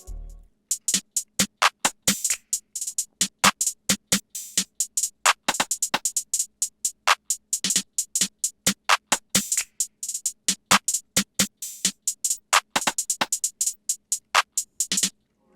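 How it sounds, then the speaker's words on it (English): Trap percussion loop with crisp snare or clap hits, rolling hi-hats and an open hi-hat, played without any 808 bass, a dense steady rhythm of sharp transients that carries on alone for the whole stretch. "So I'll play all the percussion together without the 808."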